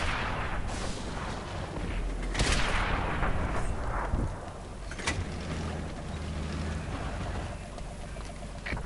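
Tank cannon fire in the video game World of Tanks, with sharp, heavy shots cracking over a constant rumbling engine and battle din, one strong blast near the middle and a fainter one later.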